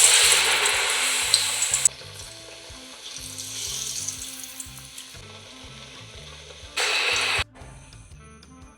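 Batter-dipped pappadam (pappada vada) drops into hot oil with a loud burst of sizzling. Quieter crackling follows, then a second short, sharp sizzle burst.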